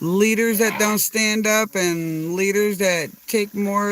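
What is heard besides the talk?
No everyday noises stand out.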